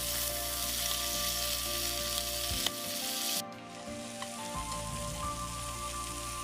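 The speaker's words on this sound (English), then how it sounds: "we will go ahead and brown these on each side there, because up in Chicago and the Midwest, they like to go ahead and brown their sausages" Sausages browning in a frying pan, Chicago and Midwest style, give a loud, steady sizzle that drops briefly when they are moved, then carries on evenly close by.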